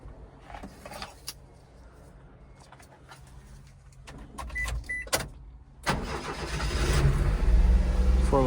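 A Daihatsu Hijet automatic four-wheel-drive mini truck starts up: a sharp crank catches around the middle and settles into a loud, rising idle, with birds cooing and faint outdoor ambience before it.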